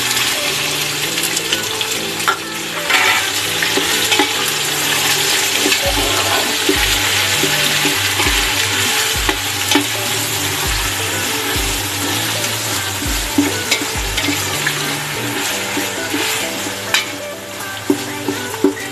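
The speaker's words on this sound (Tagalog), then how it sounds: "Lagay na po natin ang ating pork, ground pork." Three quarters of a kilo of ground pork sizzles and fries in a pan, a loud continuous crackling hiss close by, with occasional stirring knocks and scrapes throughout.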